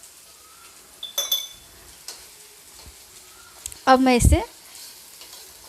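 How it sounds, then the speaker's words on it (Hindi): Taro root fries in hot oil with turmeric, a steady close sizzle under a voice, broken by a couple of scraping stirs of a spoon against the pan. "अब मैं इसे तेल छूटने तक भूनूंगी।"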